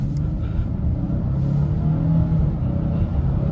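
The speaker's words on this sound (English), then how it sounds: "But the 6-cylinder does sound good, and it's got plenty of pickup" A naturally aspirated V6 in a Nissan Frontier PRO4-X pickup runs with a steady, close, low rumble and a slight rise in pitch partway through.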